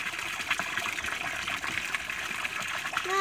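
Water gushes steadily like a small waterfall into a pet pool outdoors, a continuous close splashing stream that runs without a break.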